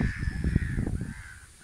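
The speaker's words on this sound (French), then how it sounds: "Non, pas des mouettes. Des corbeaux." Crows call beside the Penzé river, a quick run of harsh caws close by, layered over one another and fading out near the end.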